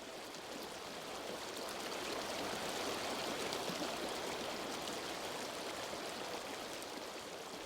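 The Bow River flows steadily in a constant, broad rushing wash of water, fairly soft and unbroken throughout, with no voices.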